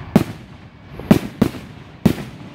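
Four fireworks bursts go off over about two and a half seconds: sharp, loud booms spaced unevenly, the last two close together, each trailing off into a short crackle against a low background.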